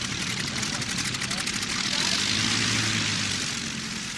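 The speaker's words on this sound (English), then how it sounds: "a full squadron of Junkers transport planes to airlift the Spanish Army of Africa from" Junkers 52 transport planes fly with propeller engines in a steady, loud, continuous drone that swells slightly midway and holds for the whole stretch.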